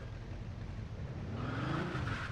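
A BMW E34 driven in Mafia II, its engine humming steadily and then climbing in pitch as it accelerates partway through, heard fairly quietly with no speech over it.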